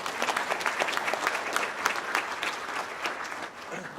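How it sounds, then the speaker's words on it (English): A banquet audience at a chamber of commerce awards dinner applauds steadily, a dense wash of many hands clapping close and loud for the full stretch, with no voices standing out. "they deserve an applause for that"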